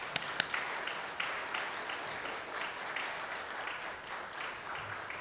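Church congregation at an early-morning sermon meditation seminar clapping together, a steady dense patter of many hands throughout with a couple of sharper claps at the start, moderately loud and heard alone.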